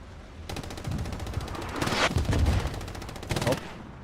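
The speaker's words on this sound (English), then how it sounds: "Fluky does get headshot by the Tipfire MG" Machine gun fire in the World War II shooter Hell Let Loose comes as three rapid bursts: a short one, a longer heavy one in the middle, then another short burst, loud and close over a low background.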